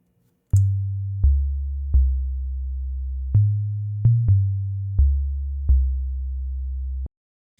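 A pure 808 sub-bass in Ableton plays only its fundamental pitch, a syncopated run of about eight deep, smooth notes with punchy attacks that sustain and fade, a few stepping up in pitch, loud and alone.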